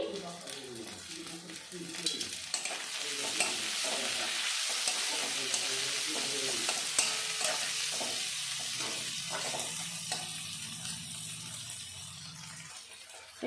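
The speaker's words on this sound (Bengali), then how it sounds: "পেঁয়াজটা টমেটোটা ভাজা ভাজা করে নিয়েছি" Chopped onion and tomato fry in a pan with a steady broadband sizzle throughout, stirred now and then, while a person talks over much of it.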